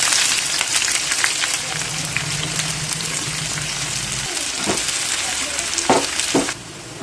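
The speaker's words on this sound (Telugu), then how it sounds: "ఆనియన్స్ అంతా వేగిన తర్వాత చికెన్ అయితే తీసుకుందాం." Thinly sliced onions fry in hot sunflower oil with a steady, loud sizzle and occasional stirring scrapes, running alone throughout with no talk.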